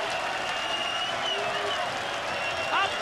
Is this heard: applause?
yes